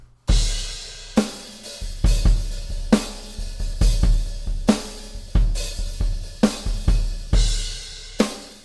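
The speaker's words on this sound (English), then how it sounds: "Let's listen to this first track, which is just a single track of Superior Drummer." Dry, unprocessed drum kit from Superior Drummer 3 played back as a single stereo track, with steady kick and snare hits and cymbal crashes in a driving rock groove, close and loud with no talking.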